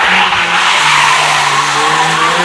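A Mazda RX-8 drifts, tires screeching loudly in a sustained skid over a revving engine, the squeal wavering in pitch as the rear-wheel-drive car slides.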